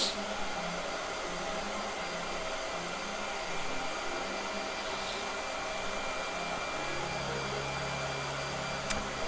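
A blow dryer runs steadily for the whole stretch, a loud, even whoosh that stays close and unbroken throughout.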